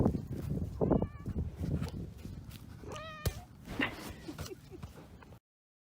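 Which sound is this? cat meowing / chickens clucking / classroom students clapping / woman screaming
cat meowing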